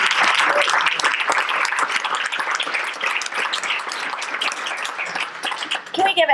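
An audience at a fireside chat event gives a sustained round of applause, a dense, loud clapping wash that thins slightly midway before a final burst of claps.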